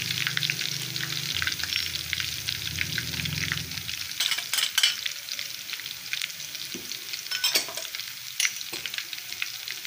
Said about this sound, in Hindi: इस तरह से ग्रीन लहसुन इसमें डाला है ताकि ये गोल्डन हो जाए।